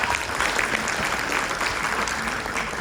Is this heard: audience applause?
yes